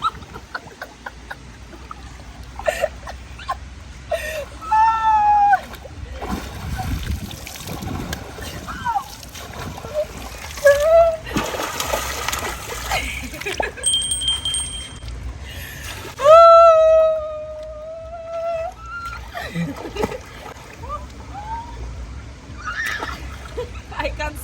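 A girl splashes in a swimming pool during her first time in the water, with scattered splashes, excited high squeals and frequent talk from people nearby.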